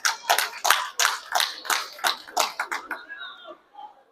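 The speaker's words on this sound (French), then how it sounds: "Sous vos applaudissements, s'il vous plaît." Scattered, distinct hand claps at a school prize-giving ceremony, a loose rhythm of single claps that thins out and fades after about three seconds, leaving faint background sound.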